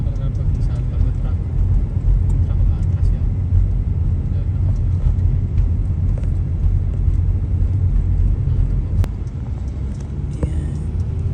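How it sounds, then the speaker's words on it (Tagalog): Steady, loud road rumble of dense traffic on Highway 400 between Toronto and Mississauga, a continuous low wash of cars and buses with a voice talking over it. "So much car on the highway."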